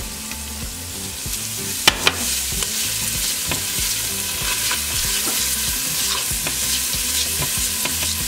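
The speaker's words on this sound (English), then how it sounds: "once your oil is hot, we're going to add our onions." Onions fry in hot olive oil in a pan for beef green chile. A loud, steady sizzle runs throughout, broken by occasional stirring scrapes, with no talking.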